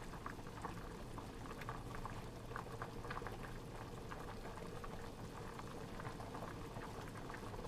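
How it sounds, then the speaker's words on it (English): Pasta liquid boils and bubbles steadily in a pot, a faint but continuous wet churning with small popping bursts close up, no voices over it. "Get the sizzles. And the bubbles."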